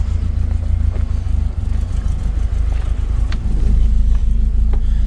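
A Ford Escort car pulls away, its engine rumbling steadily and loudly up close and building slightly as it gets under way, with no talk.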